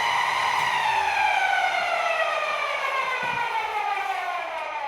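A Wagner paint sprayer's diaphragm pump with a stainless steel head gives a steady, high-pitched squeal with layered whining tones that slowly drift downward, continuous and fairly loud, with a low mechanical rumble beneath.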